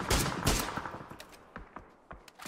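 Gunfire in PUBG ranked play on the Miramar map, with an MG3 machine gun in the match: a loud burst of rapid shots opening, then scattered single reports and echoing cracks that trail off, close and without talk.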